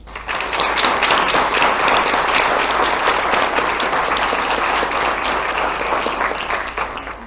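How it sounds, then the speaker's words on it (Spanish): Loud, sustained applause from the audience at a university law school debate competition, dense steady clapping for about seven seconds with no voices over it. "para quienes les pido por favor un fuerte aplauso"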